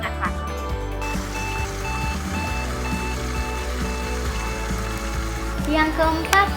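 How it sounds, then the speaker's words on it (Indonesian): An IoT wastewater sensor warning alarm beeps in a steady, evenly spaced pattern, moderately loud over a constant humming background, with a voice speaking over it. "ketika limbah tersebut menyentuh sensor yang ketiga, artinya limbah tersebut sudah penuh dan akan berbunyi, yang artinya itu adalah tanda peringatan"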